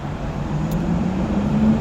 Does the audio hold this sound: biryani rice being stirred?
no